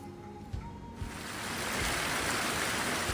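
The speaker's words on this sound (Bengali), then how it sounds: "কিছুটা এগিয়ে আবার একটা ওয়াটার ক্রসিং।" Rushing stream water at a crossing on the Valley of Flowers trek during the monsoon, a steady broadband roar that swells and grows louder partway through, heard alone with no voices.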